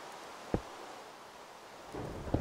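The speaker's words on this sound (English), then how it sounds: "Yeah, it's really raining." Minecraft rain and thunder: a steady hiss of rainfall with two sharp, low thunder cracks, one early and one near the end, with no talk over it.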